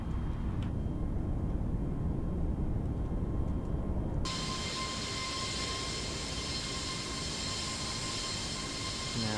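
Airbus A320neo in Microsoft Flight Simulator rolling down the runway and lifting off from Melbourne, a loud, steady broadband engine roar that swells sharply into a brighter, higher whine partway through and holds there.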